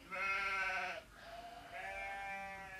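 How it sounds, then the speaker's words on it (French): A sheep bleats twice, two wavering nasal calls separated by a brief pause, moderately quiet and alone without any talk. "Le mouton."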